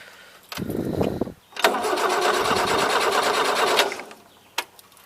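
A 1977 truck engine fed with fuel poured straight in gives a short cranking burst, then catches and runs rough and loud for about two seconds before dying, followed by one brief sputter.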